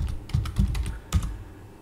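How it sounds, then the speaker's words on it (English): Keys clack on a computer keyboard in a quick burst of several presses followed by a single firmer strike, close and clear with no talking, as a command is typed into a command-line tool on a Raspberry Pi. "you can quit out of the CLI tool by just typing exit"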